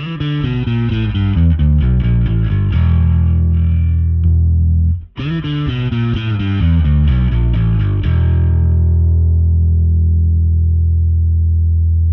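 Heavily distorted electric guitar with no compressor plays chords loudly, with a brief cut around the middle, then rings out and sustains to a long fading tail.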